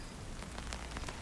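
Cartoon rain falls as a steady, faint hiss of drops with no break across the short stretch.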